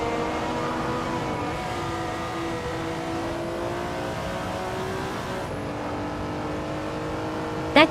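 A 1966 Jaguar XJ13 race car in a racing game accelerates hard off the starting line, its engine note climbing steadily in pitch, dropping as it shifts gear, then rising again, close and loud with no talking.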